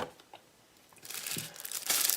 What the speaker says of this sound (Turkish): Şöyle dışı jelatinli bir şekilde geliyor poşeti bir atalım.